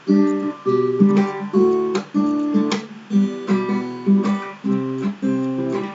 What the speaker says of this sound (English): now finger picking with a little percussive beat